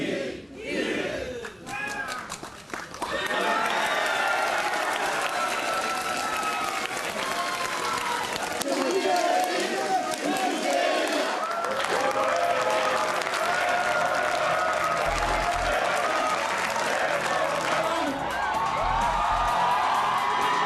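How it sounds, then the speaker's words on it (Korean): A large crowd applauds loudly and continuously at a political event marking a president's first month in office, with cheers and whoops mixed into the sustained clapping. "여러분 뜨거운 박수 부탁드립니다."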